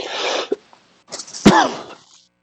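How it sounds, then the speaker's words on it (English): A few sharp coughs from a person during a planning commission meeting, an initial burst followed by a pause, then a louder cough and a trailing throat sound, close to the microphone. "I was coughing"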